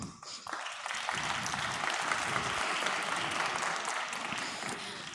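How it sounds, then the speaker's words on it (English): An audience at an agri-food conference applauds the chef in a main hall, dense steady clapping rising quickly and holding for several seconds before easing slightly, no voices over it. "Let's applaud for the chef"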